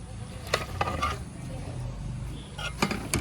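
Chicken pieces tumble into masala in a pan for a homestyle Kerala chicken curry, giving a soft sizzle with several sharp scraping and clinking stirs of a spoon against the pan.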